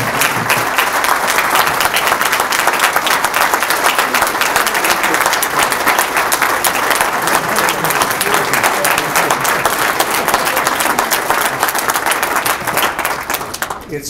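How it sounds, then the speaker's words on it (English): Loud, sustained applause for a guest speaker at a chamber of commerce event: a dense, even roar of many hands clapping that holds for the whole stretch and tapers slightly at the close. "let's give a round of applause to David Stockman."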